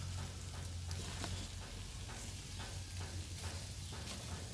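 Meat searing on a hot grill, giving a steady, close crackling sizzle with faint scraping of food being moved, fairly quiet and continuous with a low hum underneath.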